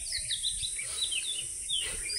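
Birds chirp and tweet at dawn in a quiet outdoor setting, with repeated short high calls overlapping in a steady, moderately distant chorus and no voices.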